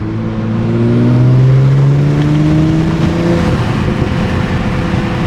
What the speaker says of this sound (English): we're gonna see if we can hear that turbo spool and intake.